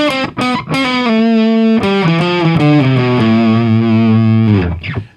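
Distorted electric blues guitar plays a lick mixing in minor scale notes: quick picked notes, bends and sustained tones with heavy drive and effects, finishing on a low held note.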